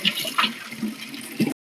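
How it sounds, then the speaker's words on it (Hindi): Cold spring water from a village spout pours into a copper water pot, a gushing, splashing fill heard up close that cuts off abruptly at the end, no talking. "तो इसमें लाएंगे धारे से ठंडा पानी भगवान भोलेनाथ जी के स्नान के लिए भाई।"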